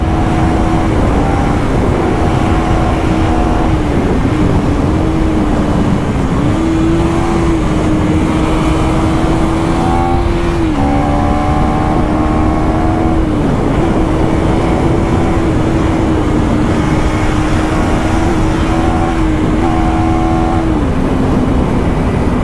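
A KTM Duke 390 motorcycle ridden at high speed drones loudly and continuously, its engine pitch shifting and dipping at intervals as the throttle and gears change.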